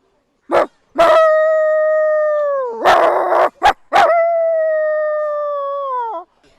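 A man imitates a dog's howl: a few short yelping barks, then long sustained howling tones with a brief bark burst in the middle, loud and close, no other speech.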